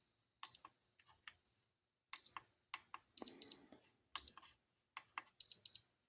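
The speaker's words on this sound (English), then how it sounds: "It's perfectly centered when it beeps twice." Short electronic beeps and clicks from a small device, several in quick pairs, close and fairly quiet over a silent background.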